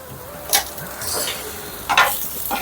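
Chicken liver frying in a pan with chilli and salt gets stirred, giving a soft steady sizzle broken by two brief scraping stirs, close and fairly quiet.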